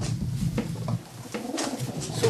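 A De Klak-Meulemans racing pigeon hen coos softly in a few low, throaty phrases, close and fairly quiet against faint background noise.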